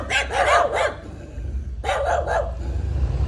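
Two short bursts of several barks each from a small group of dogs of a newer breed shown on the FKC circuit, close and loud over a low steady background hum, no talking.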